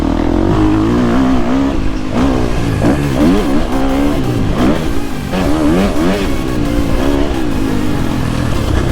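Quad bikes racing hard with engines revving loudly and continuously, pitch rising and falling through gear changes and throttle blips, close and dense throughout with no voices.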